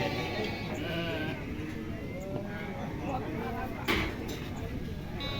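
Troli sheep bleating at a livestock market, wavering bleats from several animals mixed with crowd chatter and nearby talking, plus a brief knock partway through.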